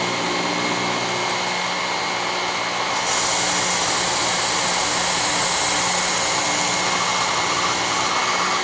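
Ken Onion Work Sharp knife sharpener with grinder attachment running, a steady whirring motor hum with a brighter hiss of abrasive belt contact that starts partway through, loud and continuous with no voices.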